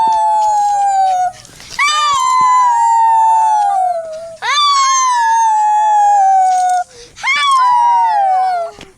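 Several dogs howl in long, wavering, sliding calls, three sustained howls with brief gaps, loud and close, with a voice joining in among them.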